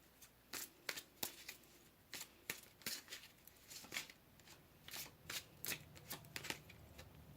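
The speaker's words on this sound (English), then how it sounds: "Let's go ahead and pull some tarot." Tarot cards are shuffled by hand in a quiet room, a run of soft, crisp riffles and flicks repeating in uneven bursts, close up and fairly faint.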